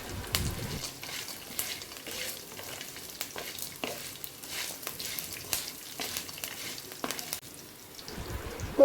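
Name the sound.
peanuts frying in a pan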